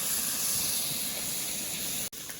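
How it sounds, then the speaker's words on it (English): Chicken pieces in lemon and yogurt sizzle in a pan on medium heat, a steady close hiss that runs throughout and cuts out briefly near the end. "as you see, this is sizzling away and the water will evaporate, or the yogurt water."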